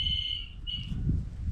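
A sewage pump alarm, triggered as its float is lifted, gives a steady shrill electronic tone that breaks off briefly and then resumes over low background rumble.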